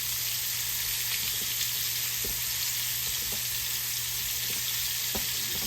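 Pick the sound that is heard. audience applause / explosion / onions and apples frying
onions and apples frying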